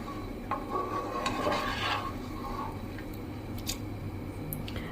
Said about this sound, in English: So we will take a bigger spoon and try to little bit stir it.